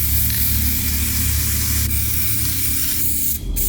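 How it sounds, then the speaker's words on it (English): A spray can applies clear coat in a steady, close hiss of aerosol that runs unbroken for nearly four seconds and then cuts off abruptly at the very end. "Apparently, this is not a primer. This is a clear coat."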